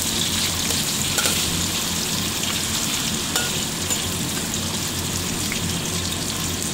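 Ingredients for a simple Taiwanese bean sprout stir-fry sizzle steadily in a hot pan, a dense, continuous crackling fry with faint stirring, no voices.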